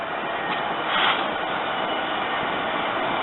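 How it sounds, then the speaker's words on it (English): A freight train passes steadily as a broad, continuous rumbling roar at moderate distance, with a slight swell around the first second and no speech. "No, that's a freight train."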